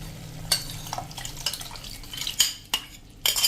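A metal pot of green chilli gravy being stirred after half a cup of water is added, with scraping spoon clinks and knocks against the pot and a soft bubbling simmer over medium flame, close and fairly loud.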